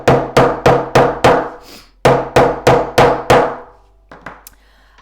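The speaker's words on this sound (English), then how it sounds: "the reason that I hammer down my threads, guys, is it actually closes the holes that we have punched and sewn through" Repeated mallet or hammer blows pounding down sewn leather stitching threads to close the punched holes, loud and close, in two bursts of about five sharp, evenly spaced strikes each, followed by faint scraping and handling.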